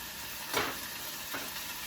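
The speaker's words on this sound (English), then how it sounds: "So now these are already cooked. You put them back on the heat. And now you put your butter." Butter dropped into a hot pan of already-cooked vegetables set back on the heat gives a steady frying sizzle, with two brief louder bursts of crackle and hiss, close and alone.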